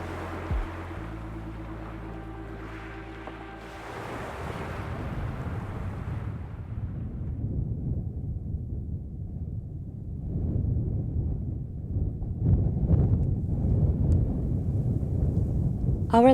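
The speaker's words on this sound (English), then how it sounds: "Our last days here on the island, the wind picked up pretty badly." Strong island wind roars and buffets the microphone continuously, rising into heavier gusts partway through, with a brief low rumble at the start.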